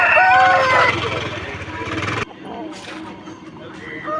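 At a rooster market in Vijayawada, a rooster lets out a loud, close crow over the first couple of seconds, then fainter market background follows.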